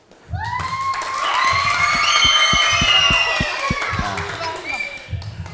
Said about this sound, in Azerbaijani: Mən görürəm ki, alqışlar çox zəifdir